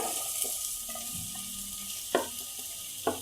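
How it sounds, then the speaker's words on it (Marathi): Chopped onion frying in oil in a pan gives a constant hissing sizzle, broken by a few sharp knocks of stirring near the end, with no voices. "आता मी इतून कांदा घालून भाजून घ्या"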